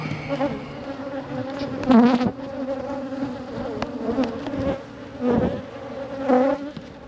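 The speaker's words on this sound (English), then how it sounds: "Definitely see lots of bees." Many honey bees buzz close by at a backyard hive, a continuous droning hum with individual insects swelling louder as they pass near.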